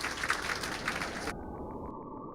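Audience applause for entrepreneurs at a live evening event, a dense wash of clapping that carries on steadily and then cuts off abruptly partway through, leaving a quieter room.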